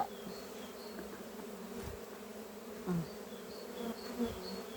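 Bees buzz at a beehive in an apiary being readied for cold weather, with a close, continuous drone and individual insects passing by, fairly faint and steady, with no talk.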